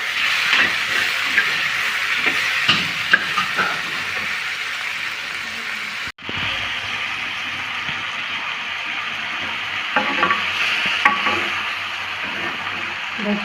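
Sliced onions fry lightly in a pan with a steady, close sizzle and hiss, broken by occasional scraping clicks of stirring.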